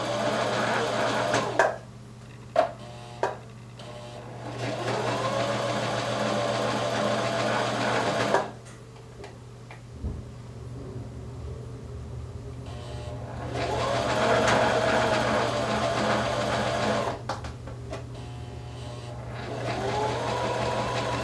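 A sewing machine stitches a ruffle onto leggings in repeated close, loud whirring runs of several seconds each, separated by short pauses with small clicks and handling sounds.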